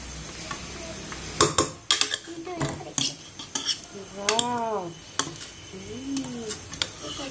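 Metal utensils clink and scrape against pots and plates while food is stirred and served at home, sharp irregular clatters with a brief squeaky scrape, close by, with faint sizzling underneath.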